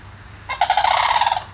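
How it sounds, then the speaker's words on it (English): Domestic birds being fed give a burst of loud, rapid calling that runs for nearly a second after a quiet start, close by and with no talking over it. "Yeah, the birds. Yeah, the birds."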